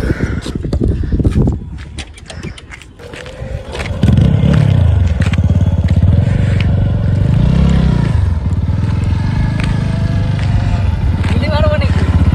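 A motorcycle engine is started with a sputter and then settles into a loud, close idle that revs up and down a few times, with people talking nearby.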